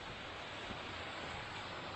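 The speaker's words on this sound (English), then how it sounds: "I do apologize if it's hard to hear me with the waterfall in the background" Steady, dense rush of a waterfall in Allegany State Park on a foggy spring morning, a continuous loud broadband roar close by with no voices.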